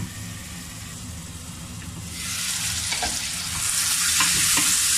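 Momo filling sizzles in a pan. The hiss starts moderate and grows louder and brighter midway, with occasional scraping stirs.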